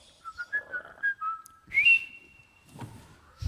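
A melody whistled by a player in a folk Christmas music performance, with clear sustained pitched notes and gliding phrases rising and falling, loud and close, ending with a soft thump.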